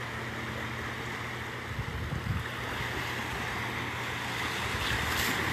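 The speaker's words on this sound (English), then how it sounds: "Welcome to Siesta Key Beach." Waves wash steadily onto Siesta Key Beach with a continuous, broad rushing surf. Wind buffets the microphone, and a few louder breaking swells are mixed into the roar.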